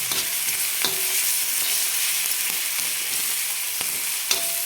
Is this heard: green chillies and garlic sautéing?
yes